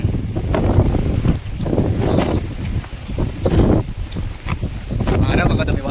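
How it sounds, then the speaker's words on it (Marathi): Strong wind gusts roar across a hilltop, buffeting the microphone loudly in uneven surges while a person speaks over the noise. "वारा बघा तुम्ही. वारा बघा कसला सुटला."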